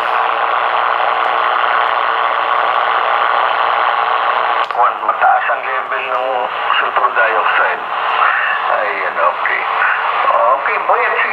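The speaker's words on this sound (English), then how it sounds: "the sound or the audio is very clear with no sign of static." Panasonic RF-B45 shortwave radio, import version, connected to an external antenna, playing loud and close; static hiss gives way at about five seconds to clear broadcast speech.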